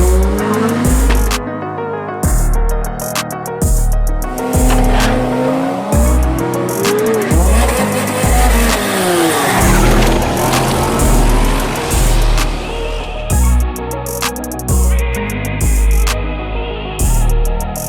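A turbocharged RD28 wagon fitted with a 48 turbo roars down the strip at a King of the Strip drag event, engine revving hard through repeated shifts with tire squeal, loud and close throughout.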